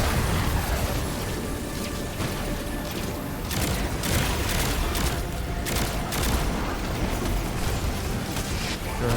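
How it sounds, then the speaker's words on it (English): Rapid handgun fire in the Destiny 2 shooter, with bursts of quick sharp shots under a dense wash of explosions and combat noise, loud and steady with no talk over it. "Oh, nice. Rapid fire handgun."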